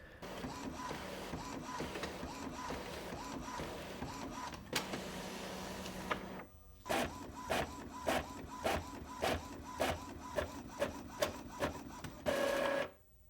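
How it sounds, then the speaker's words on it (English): Two Epson EcoTank inkjet printers, ET-2400 and ET-2800, whir and grind steadily, then shift to a rhythmic series of short mechanical strokes and clicks, close up with no talking. "both of these are printing at the same speed"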